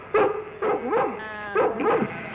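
A collie barks and yips repeatedly in quick bursts, close and fairly loud, with whiny tones between barks, while sheep are nearby.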